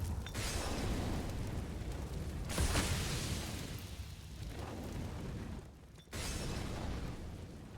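A grenade explosion in Counter-Strike on the Vertigo map during a competitive match, a dense roaring blast with rumbling, sustained noise that cuts off briefly before resuming.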